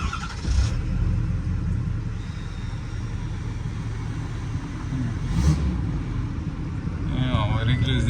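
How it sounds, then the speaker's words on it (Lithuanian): A car engine runs steadily at a cars-and-coffee meet, a low continuous rumble that stays fairly even throughout while people talk nearby. "variklis dirba puikiai"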